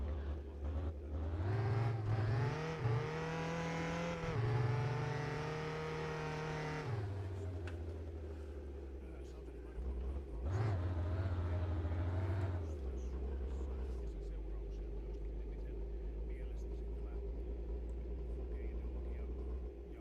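Video game truck engine sound effects: a loud engine revs up and holds a rising, droning note, drops off, then revs again briefly before settling into a low idle rumble.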